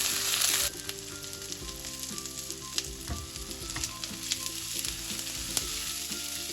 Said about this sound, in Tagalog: mainit na po ang ating kawali. Lalagay ko na itong bawang at sibuyas.